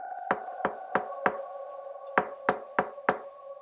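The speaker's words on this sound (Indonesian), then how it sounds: "Ia mendengar suara ketukan di pintu kamarnya." Knocks on a bedroom door at night, two groups of four sharp raps with a short pause between, close and clear in a quiet room.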